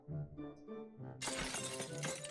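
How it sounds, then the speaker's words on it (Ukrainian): Window glass shatters in the horror video game Dark Riddle during a Halloween event. A loud, bright crash bursts in after a stretch of low musical tones, then scatters into tinkling debris under continuing game music. "А вікно йому розбити?"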